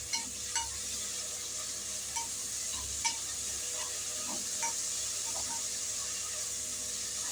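Onions and tomatoes fry in a pan for mutton biryani, giving a quiet, steady sizzle and hiss with occasional soft clinks of stirring. No voices are heard.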